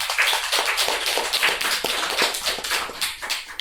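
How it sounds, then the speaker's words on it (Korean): A church congregation claps together during a Sunday service, a brisk run of close, sharp, uneven hand claps with hardly any voices. "예, 박수 한번 하죠"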